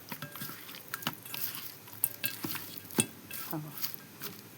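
Fish pieces sautéing in a little oil crackle and sizzle close by, broken by frequent clinks and scrapes of a utensil against the pan as the fish is stirred and turned.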